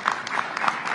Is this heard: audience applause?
yes